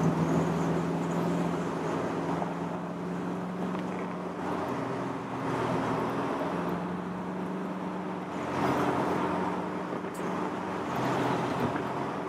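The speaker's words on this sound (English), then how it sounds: "this will get a chance to see how well this thing runs and drives, and it runs really well" A 1932 Ford Roadster's engine runs steadily while driving, a continuous low drone with road and wind noise throughout, fairly close and moderately loud, with no talk.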